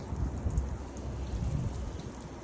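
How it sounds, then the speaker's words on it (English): A 1 HP water pump sprays water onto solar panels, giving a steady hissing wash at moderate level with soft low rumbling underneath. "Okay, so the pump is turning on."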